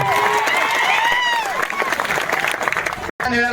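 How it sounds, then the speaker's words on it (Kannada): A crowd claps loudly at a farmers' protest on its seventh day, steady dense applause for about three seconds while a voice carries over the top, then a brief cut before the clapping resumes. "ಜೋರಾಗಿ ಚಪ್ಪಾಳೆ"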